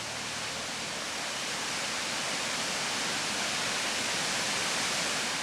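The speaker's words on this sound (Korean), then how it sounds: "엄청난 높이에서 떨어져 내리는 폭포 앞에 멈춘다." A powerful, continuous roar of falling water from a large waterfall, dense and unbroken, close and loud.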